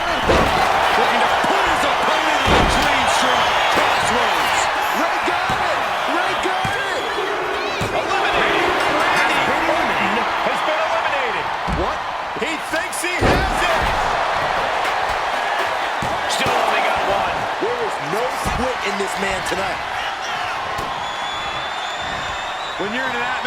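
A packed WWE 2K25 arena crowd roars continuously at full volume through a fatal five-way elimination match, with a few heavy slams punching through and a commentator talking over the din.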